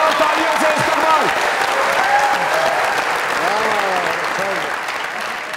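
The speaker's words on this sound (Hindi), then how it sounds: "एक जोरदार तालियों से इस्तकबाल" Loud studio audience applause welcoming guests on a comedy talk show, sustained clapping with cheers and voices rising over it, gradually easing toward the end.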